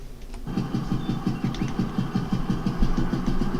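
Tractor engines in a farming video game chug in a steady rapid rhythmic knock, loud and close, kicking in after a brief quieter moment.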